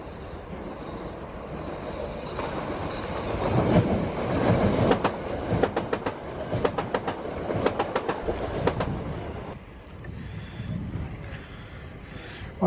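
A London Overground train rolls past on the rails, rhythmic clickety-clack of wheels over joints building and fading, with a faint squeal, heard from trackside at moderate distance without speech.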